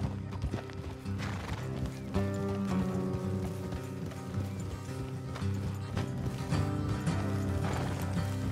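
Several horses in Red Dead Redemption 2 gallop with a dense, steady clip-clop of hooves and occasional whinnies, mixed with rattling tack and game music throughout, loud and close.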